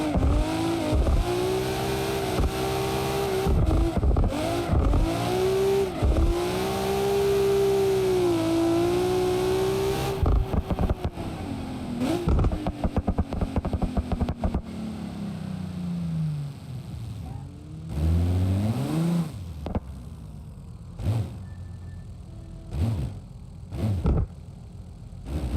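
Car engine in BeamNG.drive revving hard and rising and falling in pitch while drifting, loud and close at first, then winding down with scattered knocks and thumps toward the end.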